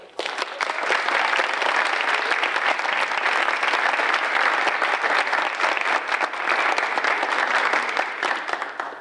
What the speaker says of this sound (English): Let's give everybody else a round of applause.